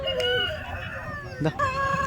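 A rooster crows at the Nallapadu rooster market, a sustained, fairly loud call with a second short burst near the end, heard over voices and the general crowd noise of the market.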